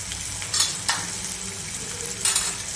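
A spoon stirs ground peanut powder and spices into bitter gourd curry cooking in a pan, with a steady soft sizzle and a few louder scrapes of the spoon against the pan.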